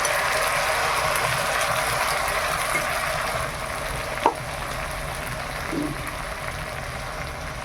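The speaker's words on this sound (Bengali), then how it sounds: "মশলাটা ভালো করে ভাজা হয়ে গেছে" A steady sizzling hiss of ground mustard, chilli and cumin paste frying in a pan with turmeric, with a sharp utensil click midway and a softer scrape near the end.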